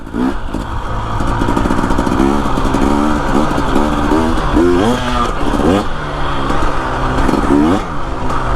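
A Husqvarna TE 250 dirt bike with an FMF exhaust and TSP tune rides slowly in third gear. The engine has a loud, close, choppy bark that surges and rises in repeated throttle blips, with clattering mixed in.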